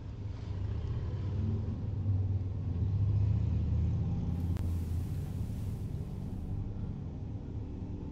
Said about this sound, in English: Sorry about the traffic outside.